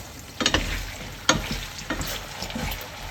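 Sliced potatoes for a Spanish tortilla are stirred in a pan, soft sizzling under a few scraping, knocking strokes of a utensil against the pan, close and fairly quiet, without speech.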